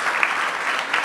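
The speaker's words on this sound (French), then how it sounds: "On l'applaudit." A brief burst of steady applause from an audience at a school brunch event in Lyon, dense, even clapping throughout.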